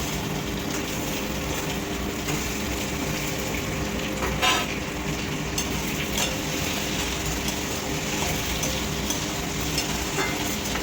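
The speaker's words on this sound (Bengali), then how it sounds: "পেঁয়াজটা ভাজতে ভাজতে ডিমটা ভাজা যায়।" Eggs fry together with onions in a pan for egg curry, giving a dense, continuous hiss of sizzling oil that stays steady and fairly loud for the whole stretch, with a faint stir partway through and no talking.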